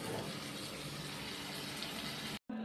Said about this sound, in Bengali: সামান্য পরিমাণে একটু জল দিয়ে দেবো।